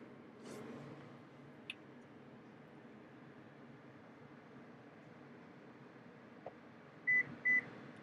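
Quiet mechanical hum, then two short electronic beeps from the power seat controls of a Lexus LX 600 in quick succession near the end, with a couple of faint clicks earlier.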